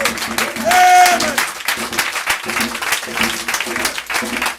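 A church congregation clapping and cheering in acclamation, steady applause from a crowd with a raised voice calling out over it.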